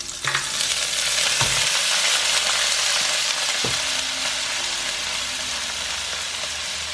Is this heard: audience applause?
no